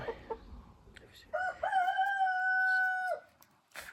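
A crested rooster crows once, a long sustained cock-a-doodle-doo held clearly and nearby, with a few short clucks and soft rustling before it.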